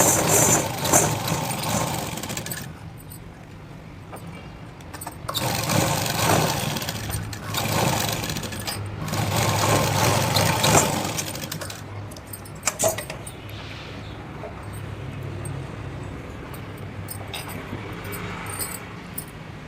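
A sewing machine joins pieces of a Punjabi pant in several bursts of rapid stitching separated by pauses and small clinks of handling, close and fairly loud, with no voices.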